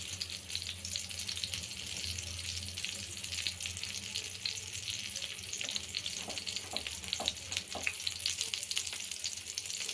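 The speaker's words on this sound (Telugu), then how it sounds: "ఇప్పుడు ఈ బ్రెడ్ని ఇలా వేయించేద్దాం" Halved burger buns frying in a pan give a soft continuous sizzle with faint clinks and scrapes, quiet and close with some background hiss, no voices.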